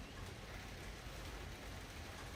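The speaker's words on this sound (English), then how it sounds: "you can hear the rain" Rain falls steadily as a dense, even broadband hiss, moderately close and unchanging for a couple of seconds, with no talk.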